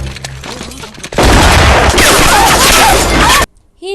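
Gunfire strikes the robot Chitti in a movie scene, a sudden loud, dense burst of shots and impacts lasting about two seconds before cutting off abruptly, preceded by quieter background sound.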